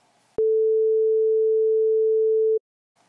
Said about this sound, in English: The simplest note is a smooth sinusoidal wave.